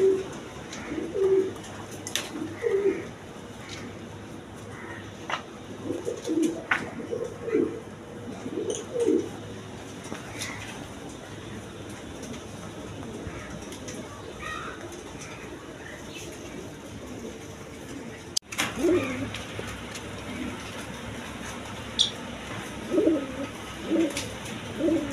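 Pigeons cooing in a loft where pairs are kept with their chicks, giving repeated low throaty coos from several birds at a moderate distance, with quiet gaps and a sharp thump in the middle.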